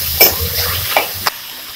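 Peanuts, coriander seeds and roasted gram being sautéed in a pan for a Palladam tomato kurma, giving a steady close frying hiss with a few sharp stirring scrapes.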